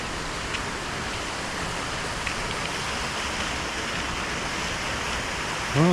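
Continuous broadband rushing of flowing water, steady and close, with a brief louder sound at the very end.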